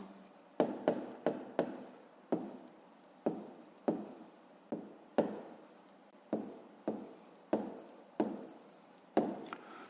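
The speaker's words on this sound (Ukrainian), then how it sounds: "записуємо тоді відповідь" Pen strokes on paper as an answer is written out by hand for a fifth-grade maths exercise: a steady series of short, scratchy scribbles in quick bursts, close and fairly quiet, with no talking.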